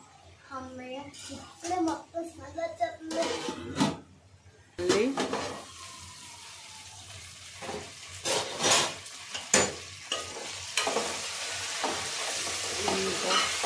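Vangibath masala frying and being stirred in a pan, with repeated scraping and clinking strokes over a steady sizzle and brief kitchen clatter, moderately close.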